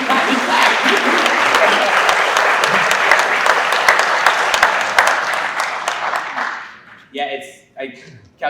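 An audience at a school partnership breakfast applauds loudly and steadily for several seconds before the clapping fades and a speaker resumes talking.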